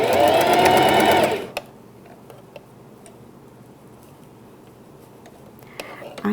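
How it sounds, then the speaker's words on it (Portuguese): A sewing machine stitches a pet bandana in a short, loud burst of rapid mechanical whirring during the first second and a half, then stops, leaving quiet room tone with a few faint ticks. "Aí você vai costurando com delicadeza."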